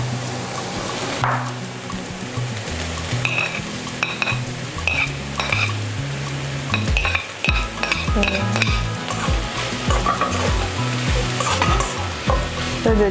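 Potatoes fry and hiss in a pan as they are stirred for meat pastels, with steady close sizzling, frequent spoon scrapes and clinks, and music playing underneath.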